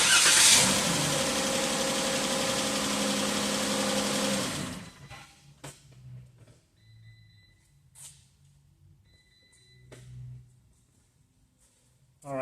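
A Chrysler Pentastar V6 cranks and catches, then runs with a loud steady drone for about four seconds before shutting off, followed by quiet faint clicks and shop noises.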